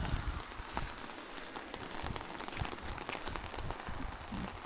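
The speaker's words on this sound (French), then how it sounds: "C'est de l'eau de pluie." Rain falling outdoors during a camping-car trip in Sweden, a steady broadband patter of drops on surfaces, moderately close and continuous with scattered sharper taps, no talking.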